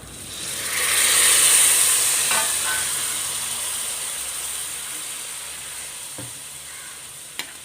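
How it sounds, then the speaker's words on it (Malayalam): Gooseberry boiling water hits a hot pan of frying spices, ginger and garlic with a loud burst of sizzling that swells, then settles into a steady hiss and bubbling, with a faint clink near the end. "നെല്ലിക്ക തിളപ്പിച്ച വെള്ളത്തിൽ നിന്ന് കുറച്ച് വെള്ളം ഒഴിച്ചു കൊടുക്കുക"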